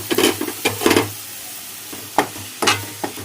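Tomato paste frying in oil in a pot for chicken curry, with bursts of sizzling and scraping stirs in uneven clusters, close and fairly loud, separated by quieter moments of low simmering.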